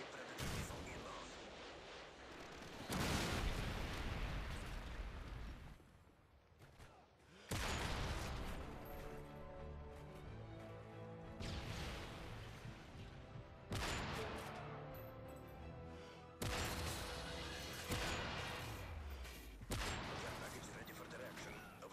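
A Predator missile strike in Modern Warfare 3 goes off as several loud, broadband explosive blasts in quick succession, each rumbling and fading before the next, with game voice callouts and battle noise running underneath.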